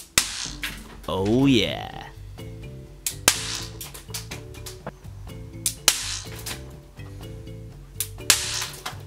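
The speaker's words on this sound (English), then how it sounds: "I've still got loads of these fun snaps left, so I might as well fire off a few of these too." Bang snaps, the small fun-snap novelty fireworks, crack sharply one after another at irregular intervals over a backdrop of music, with a short remark spoken partway through.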